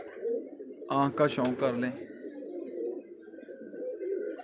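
Firozpuri slate pigeons coo in soft, rolling bursts nearby, while someone speaks briefly over them and faint background sounds continue.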